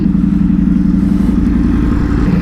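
A Ducati motorcycle engine runs loud and close, a steady low throbbing idle or light rev held evenly throughout, with no voices.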